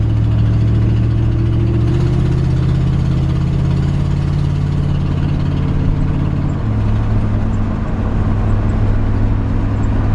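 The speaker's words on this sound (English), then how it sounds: "You can hear the transmission shifts out nicely." A loud, steady 390 V8 engine in a 1955 Ford F-100 truck runs close by, its pitch stepping down partway through as the automatic transmission shifts gear.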